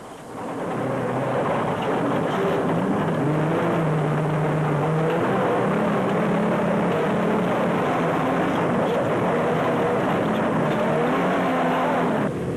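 Toyota Hilux off-road racing truck roaring through rough terrain in a 2006 off-road race, a loud continuous engine drone with shifting pitch as it powers on, no voices present.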